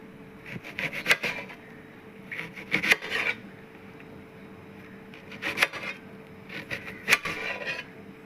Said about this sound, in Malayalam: ആപ്പിൾ ചെറുതാക്കി കട്ട് ചെയ്യാൻ പോണ്.